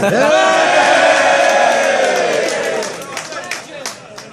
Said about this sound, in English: I think it'll probably start a little cheer actually